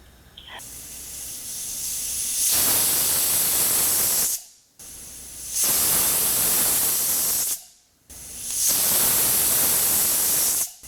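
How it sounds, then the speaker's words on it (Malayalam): A pressure cooker with duck cooking inside vents steam in three loud, sustained hissing bursts, each lasting a few seconds and separated by short near-silent gaps. "നാല് വിസിൽ ഇപ്പോൾ കേട്ടു."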